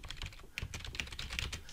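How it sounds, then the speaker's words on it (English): Rapid typing on a computer keyboard while coding a web page, a dense stream of close, crisp key clicks with no talk over it. "if I start typing"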